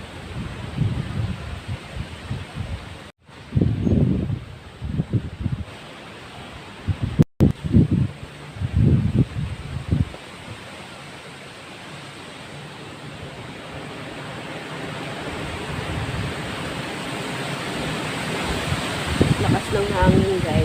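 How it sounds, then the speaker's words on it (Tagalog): Strong wind gusting outdoors near Caleruega Church in Batangas, a steady broadband roar buffeting close to the microphone, swelling louder toward the end, with people talking intermittently in the first half. "Lakas ng hangin guys."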